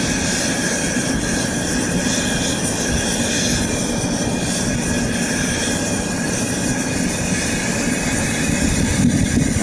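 A homemade metal-melting foundry's burner firing, giving a steady, loud, broadband roar with a low rumble that holds evenly throughout and swells slightly near the end.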